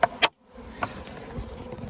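A swarm of honey bees buzzes steadily at a moderate distance after being disturbed from a bush, with a few sharp knocks near the start and a short drop in sound.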